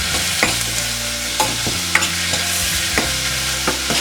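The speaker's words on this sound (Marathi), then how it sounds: "जो मसाला आहे त्यात चांगला फ्राय करून घेऊया" Masala with onion and tomato frying in a pan, with a steady hiss under a low hum and sharp scrapes of a spatula stirring at irregular intervals.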